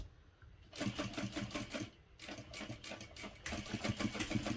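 A sewing machine stitches steadily, pauses briefly with the needle down to pivot at a bag corner, then resumes a close, rapid mechanical chatter.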